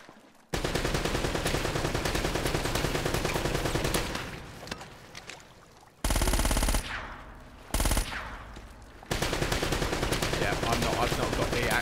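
Rapid automatic gunfire from a third-person shooter, Uncharted: Drake's Fortune, with dense bursts filling most of the stretch, a short lull, then several sharp loud volleys and a return to sustained firing.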